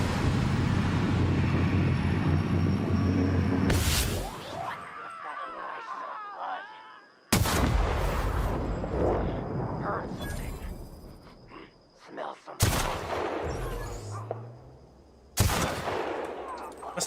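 A sniper rifle in The Outer Worlds fires four loud, sharp shots spaced several seconds apart, each cutting off into quieter stretches of ambient game noise and a groaning voice.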